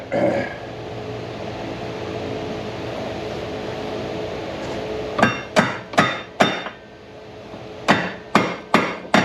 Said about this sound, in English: Let's see what did we do with that hammer I had?